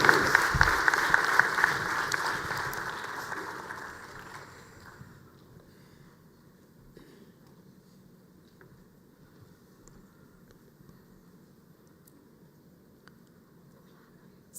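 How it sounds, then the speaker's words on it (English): Audience applause for a panel at a monetary policy and financial stability statement event, a loud burst of clapping that fades steadily over about five seconds into quiet room tone. "Let's appreciate our panel with a round of applause as they take"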